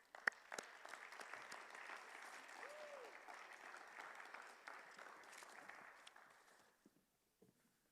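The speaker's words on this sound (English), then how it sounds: "Can we give a round of applause for Dr. Hill?" A large audience at a Martin Luther King Jr. Day celebration breaks into sustained, dense applause that holds steady for several seconds, then thins out and fades, with a few scattered claps and faint voices near the end.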